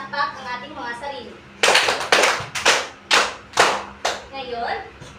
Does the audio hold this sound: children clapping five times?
yes